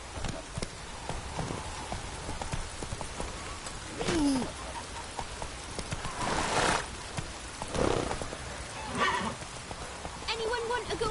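Roach, the horse in The Witcher video game, gallops with steady clip-clop hoofbeats and an occasional whinny, with talk and ambient sounds nearby.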